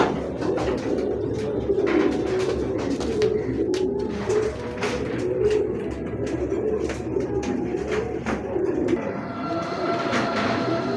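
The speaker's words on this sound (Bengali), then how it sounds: "চোখটা একটু দেখেন ভাই, একবার টকটকা লাল চোখের কবুতর" Racing pigeons coo in a soft, continuous low murmur, several birds overlapping nearby, with faint background clatter.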